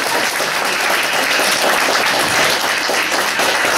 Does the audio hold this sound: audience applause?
yes